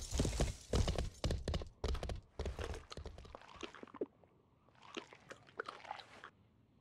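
Horse hooves clip-clopping in a video game, a quick series of sharp, close hoofbeats arriving in bursts separated by short pauses, with no voices over them.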